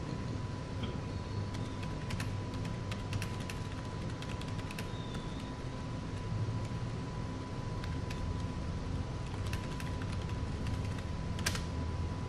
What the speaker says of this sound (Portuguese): Você vai falando que vai digitando também